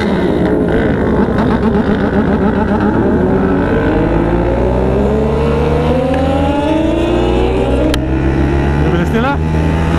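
Suzuki Hayabusa motorcycles revving loudly and steadily with rising engine pitch, passing close by among a group of riders at a gathering in Clark, Pampanga, while people talk in the background.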